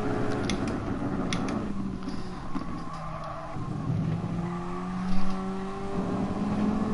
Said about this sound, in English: Those Ferraris are battling hard with each other.